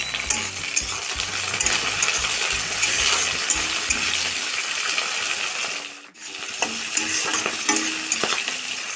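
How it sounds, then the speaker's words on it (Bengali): Onions and vegetables sizzling in a pan for a spinach curry, a steady loud hiss and crackle with occasional stirring scrapes and clinks, briefly dipping before the frying noise resumes. "এগুলো একটু লাল লাল করে ভেজে নেব। এগুলো এর মধ্যে দিয়ে একটু ভেজে নেব।"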